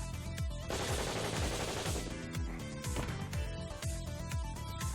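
Video game gunfire as a headshot is fired from a curtain of smoke: a rapid series of loud, sharp shots over a dense, busy game soundtrack.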